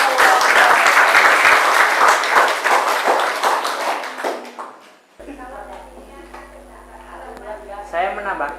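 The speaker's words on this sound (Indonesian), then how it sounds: "Beri aplaus untuk kelompok E." Classroom applause for a student group bursts out loud and dense for about four seconds, then thins to scattered claps and fades, followed by a teacher speaking over faint room noise.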